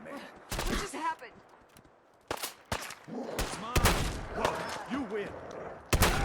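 Shotgun blasts ring out in a modded Fallout 4 session, several sharp, loud shots spaced irregularly amid game chatter and a speaking voice.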